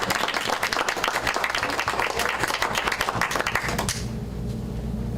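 Audience applause welcomes an author at a book event, a dense burst of clapping that fills the first four seconds, then stops abruptly, leaving quiet room tone.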